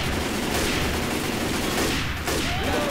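Loud, dense gunfire from Left 4 Dead 2, a continuous barrage of shots close up, with almost no talking over it.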